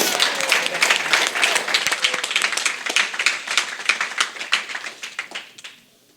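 A church congregation applauds, brisk and loud at first with many distinct hand claps, then thinning to scattered claps before fading out near the end.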